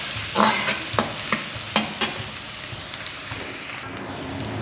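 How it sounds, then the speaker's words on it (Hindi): Onions sauté in a pan for a veg and egg fried rice, sizzling steadily close by while a utensil stirs and scrapes in several sharp knocks that thin out toward the end. "प्याज को सौते कर लेते हैं।"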